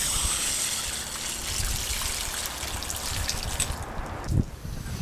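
Water poured onto newly planted garden soil for a first saturation, a steady close trickle and splash running for several seconds before tapering off.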